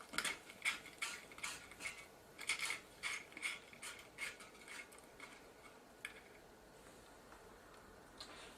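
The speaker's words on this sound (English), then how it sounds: "I'm going to take this top screw out" A screwdriver backs screws out of a JVC GY-HD251 tape deck, giving a run of small, quiet ratcheting clicks and metallic ticks in rapid bursts that thin out toward the end, close up with no talk.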